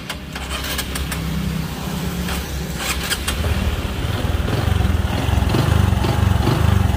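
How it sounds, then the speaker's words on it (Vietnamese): A Honda Future 125 motorbike engine is started and runs on test, a close mechanical idle with rattling and ticking that grows louder and rougher toward the end, with no talking. "Nổ máy thử cái"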